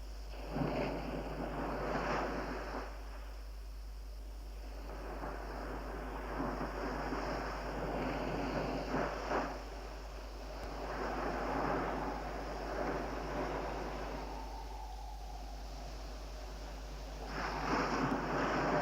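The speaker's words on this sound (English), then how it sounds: "Wind is blowing out of the dawn." Steady wind sweeping through an open camp at dawn, a broad continuous rush that swells and eases in long gusts, with a low roaring bed like distant surf and no voices.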